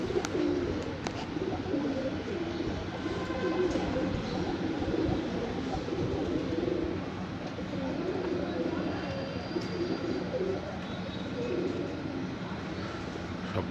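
A large flock of pigeons cooing together in the morning among trees, a dense layered murmur of overlapping coos with a steady low rumble beneath.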